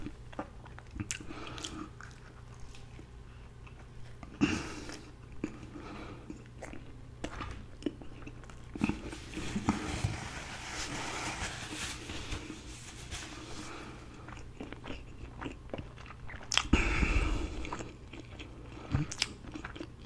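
Close-miked biting and chewing of a crunchy hash brown with a breakfast muffin, steady wet crunching and mouth sounds with occasional sharper crunches, no talking.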